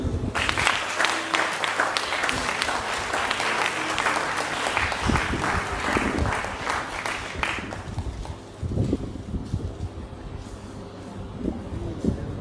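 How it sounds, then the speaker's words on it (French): A church congregation claps steadily for several seconds, then the applause fades to scattered claps and room murmur. "On peut applaudir."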